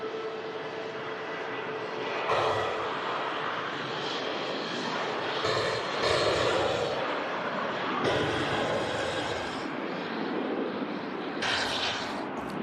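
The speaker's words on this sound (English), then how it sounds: "Engine just starting there as well on the A320neo. The Jet 273 on the roll as well." Airbus A320neo jet engines at Manchester Airport, a broad steady roar of engines spooling and an aircraft on its takeoff roll, loud and continuous with no talk over it.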